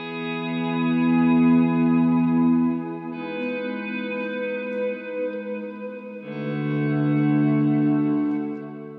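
Louder ambient guitar swells with the Guitar Rig 6 amp simulator volume cranked up, three smooth fading-in chords sustaining with lush echo, chorus and reverb, steady and close with no voices.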